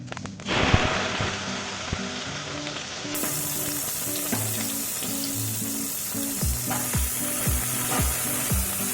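Cumin seeds and onion frying in oil in an iron kadhai, a steady close sizzle with scattered crackles and occasional spoon scrapes, no voices over it.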